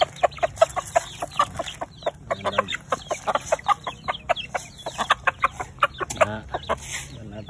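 Many chickens cluck in quick, busy bursts close by while being fed, a dense flock chattering steadily with a brief voice underneath.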